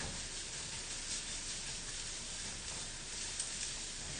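Thinly minced garlic sizzles in a hot pan, browning quickly. The frying is a steady, even hiss that runs unbroken and fairly close, with no voices over it.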